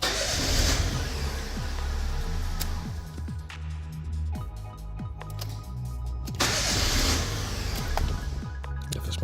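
Fiat Grande Punto starter motor cranking an engine that refuses to start, a rhythmic churning of repeated turns running steadily, pausing briefly, then resuming with a louder burst near the end, close and fairly loud.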